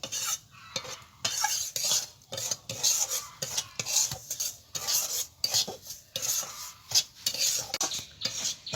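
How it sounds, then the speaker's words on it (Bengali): Semolina frying in hot ghee while being stirred steadily, a continuous scraping and rasping of a spoon against the pan with a soft sizzle underneath, rhythmic and close. "মিনিট 2-3 ধরে আমি এই ঘির সঙ্গে এই সুজিটাকে ভালো করে ভেজে নেব"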